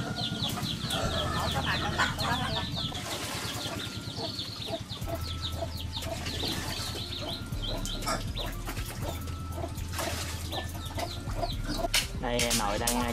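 Farm ducks, white Muscovy raised for meat, keep up a busy run of quacks and clucking calls in a rural Mekong Delta yard. Low thumps and background noise sit underneath the calls.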